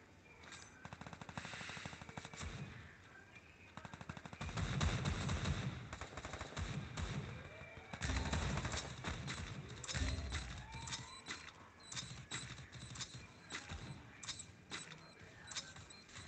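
Rapid machine-gun bursts from a Garena Free Fire match crackle through, with repeated volleys and scattered single shots over a steady game background, loud and fairly close throughout.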